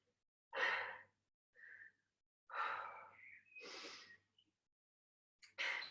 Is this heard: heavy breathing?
yes